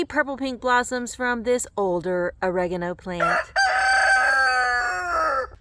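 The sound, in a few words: rooster crowing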